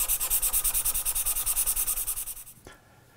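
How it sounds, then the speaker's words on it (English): Rhythmic back-and-forth sanding of a bevel onto a circuit board card edge for an EPROM cartridge, about twenty quick rasping strokes up close, then stopping with a small knock. "the next step is to bevel the leading edge of the card edge"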